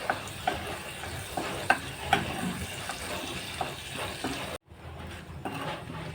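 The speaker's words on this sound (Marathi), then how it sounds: "आणि आता चांगला परतून घेऊया." Curry leaves and asafoetida are sautéed in a pan with butter: a soft steady sizzle with scattered pops and stirring clinks, then a brief pause before the frying resumes quietly.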